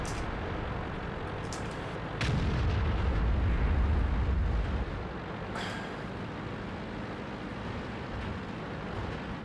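Artillery fire in the World of Tanks video game: one deep, heavy blast rumbles for a couple of seconds over steady battle ambience, with a few fainter pops before and after.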